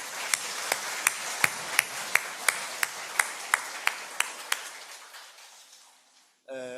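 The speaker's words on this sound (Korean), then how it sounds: "큰 박수로 한번 환영해 주시죠" A congregation at a church gospel meeting in Daejeon claps to welcome invited guests. The sharp claps land in an even, steady rhythm while the background fades, and then a voice starts speaking at the end.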